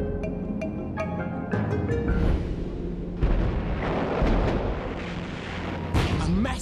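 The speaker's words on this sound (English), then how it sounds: "Massive barrage obliterates the surface" Heavy artillery barrage pounding a rocky island defended by Japanese soldiers in caves: dense, continuous rumbling explosions and booming blasts overlapping one another, loud and close with repeated sharp detonations.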